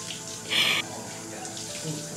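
Shower water running steadily in a bathroom, a soft continuous hiss with a brief louder spray burst near the start, heard alone at moderate level.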